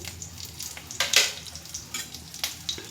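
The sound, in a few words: dried chillies and whole spices frying in hot mustard oil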